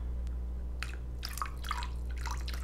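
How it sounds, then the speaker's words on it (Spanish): Short splashing bursts of white vinegar poured into shredded cabbage for a Kentucky-style coleslaw, a few quick wet spurts close by with no talking. "yo cojo un chorrito de vinagre blanco"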